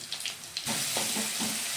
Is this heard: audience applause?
no